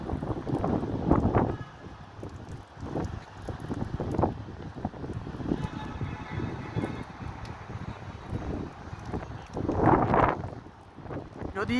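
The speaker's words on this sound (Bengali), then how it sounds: "খুব বাতাস প্রচণ্ড বাতাস" Strong wind gusts roar and buffet the microphone ahead of a thunderstorm, the rumbling swelling and easing in waves and rising to a loud surge near the end, with no talk.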